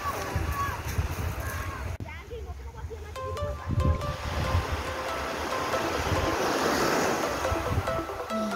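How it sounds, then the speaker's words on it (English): Waves wash onto a beach at Playa Piskadó in Westpunt, Curaçao, a continuous surf hiss with gusty wind buffeting the microphone, mixed with people talking nearby. "look at this beautiful beach"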